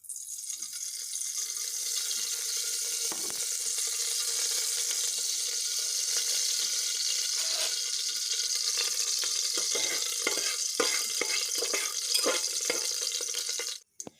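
Steady, loud sizzling of hot oil with spices in a pressure cooker, with crackles and pops growing denser toward the end before it suddenly stops.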